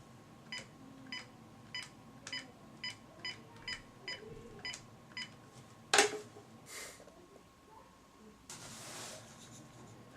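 Telephone being dialed for a call: about ten evenly spaced, fairly quiet key beeps in a steady rhythm, followed by a short burst and a softer hiss, with no one talking.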